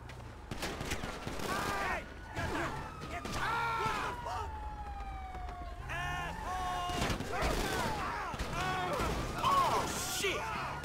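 Bursts of gunfire ring out during street chaos in GTA Online, mixed with wailing police sirens, engine noise and loud impacts, while people shout and talk throughout.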